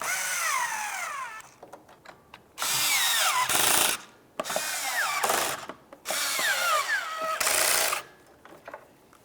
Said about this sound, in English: Once they're all started, we can snug them up